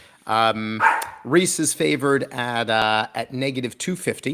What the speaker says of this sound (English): Apologies for my dog going in the background.